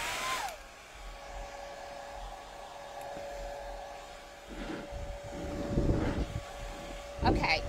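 A hair dryer blows steadily to dry paint on a rusty mason jar, a continuous close whirring drone with a faint whine, briefly interrupted by clunky handling noises near the end.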